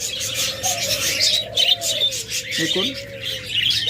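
Small pet birds such as cockatiels, lovebirds and budgerigars chirp and tweet continuously in an aviary, with bright overlapping calls and a soft low cooing underneath, while someone speaks briefly.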